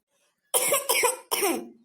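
Three harsh coughs in quick succession from one cartoon character, close and loud, after a short near-silent start.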